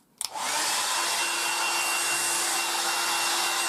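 A 1980s Black & Decker SW105 Stowaway travel hairdryer with its air concentrator nozzle fitted clicks on, then blows a loud, steady rushing roar alone at close range.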